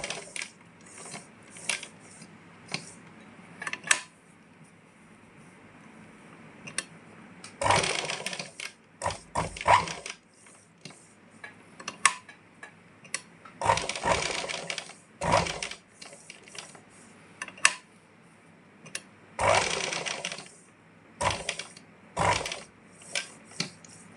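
Sewing machine stitching cloth in repeated mechanical bursts of rapid clattering, several runs of varying length separated by quiet pauses, close and fairly loud.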